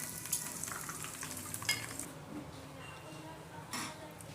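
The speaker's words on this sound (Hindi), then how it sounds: "चॉप्स हमारी गोल्डन फ्राई हो गई हैं, बिल्कुल क्रिस्पी" Mutton chops frying golden and crispy in oil, a faint crackling sizzle with a few light clinks of utensil on pan, quiet and close.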